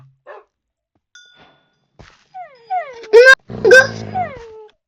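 A dog whimpers inside a survival horror video game, giving several rising and falling whines that start faint and sparse, then swell into louder, drawn-out cries near the end.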